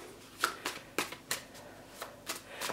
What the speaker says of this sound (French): Donc on mélange nos cartes.